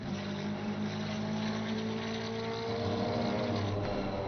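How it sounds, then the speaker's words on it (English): GT4 race car engines droning around Laguna Seca in a racing video game, a steady layered hum of motors with sustained tones and no pauses. "there really is no arguing with the sound of some of these cars"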